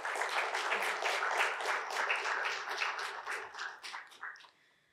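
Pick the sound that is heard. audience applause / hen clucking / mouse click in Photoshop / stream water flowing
audience applause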